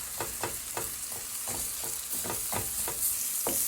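Eggs fry in melting butter in a pan with a steady, close sizzle and a regular series of soft taps or scrapes from stirring. No one speaks.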